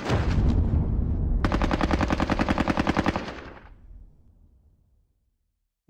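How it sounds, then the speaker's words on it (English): Sustained automatic gunfire and heavy battlefield shooting from the video game Squad Battles Eagles Strike, a dense burst that cuts off and leaves a fading rumble before a brief click at the end. "Mortars came from somewhere there. There are the mortars."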